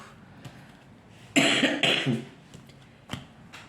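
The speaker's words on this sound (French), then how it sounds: "Excusez-moi pour ma toux." A person coughs two or three times, a close, harsh burst followed by a smaller cough a moment later.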